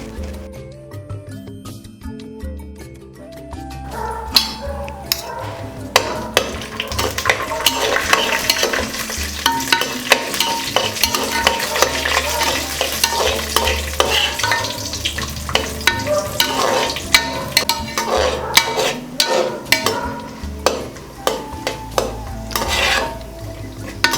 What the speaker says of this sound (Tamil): இந்த நெய்லேயேங்க இந்த முந்திரியை வச்சுருக்கோம் இல்லைங்களா, அதை அப்படியே போட்டு வறுத்துருவோங்க.